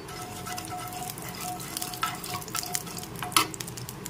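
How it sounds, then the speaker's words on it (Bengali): Black cumin seeds temper in hot mustard-style oil left after frying mrigel fish, spitting and crackling in a lively sizzle with scattered pops and a sharp utensil clink, without talk. "কালো জিরে ফোড়ন দিয়ে দিলাম"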